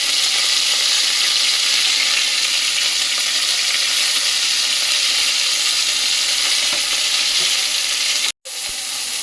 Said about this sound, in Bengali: আমাদের কপি ভাজা হয়ে গেছে বন্ধুরা।